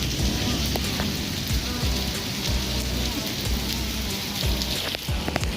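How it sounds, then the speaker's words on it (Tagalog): A heavy downpour with small ice pellets in Riyadh drums steadily and loudly, a dense close hiss of rain on surfaces that never lets up. "Lakas ng ulan, no? Ang lakas ng agos ng tubig sa banda roon."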